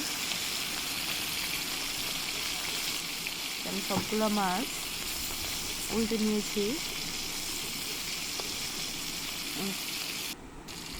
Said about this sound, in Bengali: আস্তে আস্তে মাছ ভাজার কাজটা করতে হয়